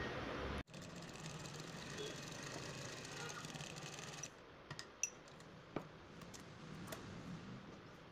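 Sewing machine stitching a seam on a palazzo pant while fitting an invisible pocket, a steady close mechanical whir for about four seconds that stops abruptly, followed by a few light clicks and handling taps.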